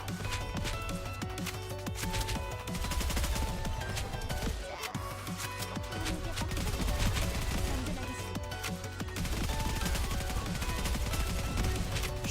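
Steady rapid gunfire in Goddess of Victory: Nikke as Raptures are shot down, dense bursts running without pause under a bed of game music.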